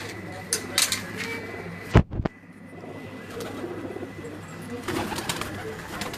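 Kasuri pigeons in a cage in Pindi coo softly among other bird calls, with a sharp knock near the middle and light background noise after rain.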